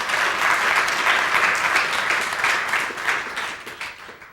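Sustained audience applause rings out at the Salisbury, Maryland State of the City address, dense and even at first, then gradually tapering and thinning toward the end.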